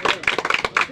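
A short burst of hand clapping from a few people during a street number game, quick uneven claps close by with voices mixed in.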